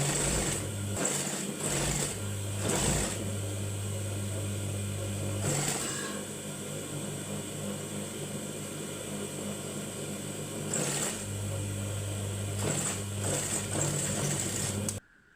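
Sewing machine stitching together two pieces of fabric for a baby top, a steady mechanical whirr running in bursts with short pauses in between, close and fairly quiet.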